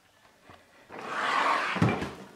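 A drawer in a makeup storage unit slides open with a soft, rising whoosh that ends in a light wooden knock, close and quiet, without talk.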